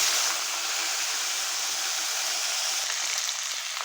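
Potatoes frying in hot oil with cumin, bay leaf and dried chilli, a steady, close broadband sizzle that holds evenly throughout with no voices.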